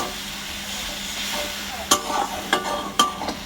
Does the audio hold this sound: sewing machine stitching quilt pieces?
no